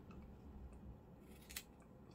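Scissors snip off the end of a glued paper tab on a beaded boho pencil dangle for a junk journal, with one crisp cut near the end among faint handling rustle.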